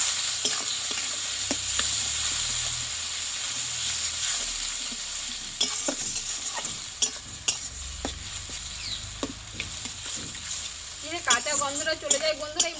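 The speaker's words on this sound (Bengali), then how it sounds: "আর দেবো স্বাদ মতো লবণ আর দিয়ে দেবো হলুদ গুঁড়ো দিয়ে মশলাটাই ভালোভাবে কষে নেবো" Mutton masala with salt and turmeric powder sautéing in a pan gives a steady, close sizzle dotted with sharp spatula clicks and scrapes, and a faint voice comes in near the end.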